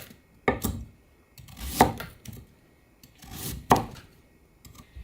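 A knife chops radish into thick 1.5 cm slices on a board, giving a handful of separate firm thuds and cuts spaced about a second apart, close and fairly quiet, with no talking.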